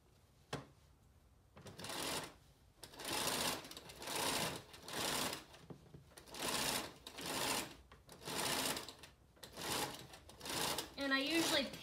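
A home sewing machine stitches a boxed cushion cover with welt cord, running in repeated bursts of steady stitching about a second long, separated by short pauses, close and fairly loud.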